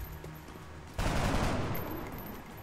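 Gunfire in XCOM: Enemy Within with the Long War mod, a sudden burst of rapid shots that breaks into a quiet scene and then trails away over about a second and a half.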